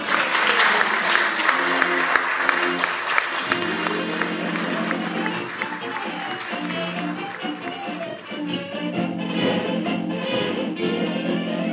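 A municipal council audience in Rennes applauds steadily for several seconds, a dense, even wash of clapping with a faint hum beneath that tapers slightly near the end.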